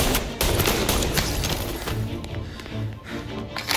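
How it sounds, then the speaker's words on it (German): Submachine gun fire in Mafia: Definitive Edition, dense overlapping bursts of rapid shots with booming impacts and crashes. The firing stays loud and continuous, then thins toward the end. "Maschinenpistole."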